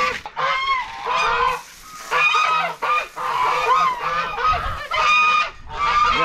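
Geese honk loudly and repeatedly nearby, a run of overlapping nasal calls with only brief pauses between them.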